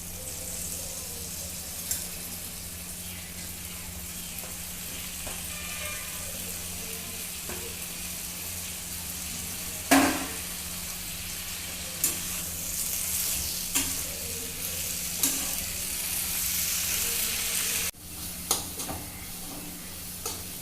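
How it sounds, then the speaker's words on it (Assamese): Tenga mora leaves frying in a pan in a village kitchen in Assam, a steady soft sizzle with occasional sharp clinks of stirring, heard alone without talk. "এতিয়া 3 মিনিটমান মই টেঙামৰা পাতটো ভাজিম।"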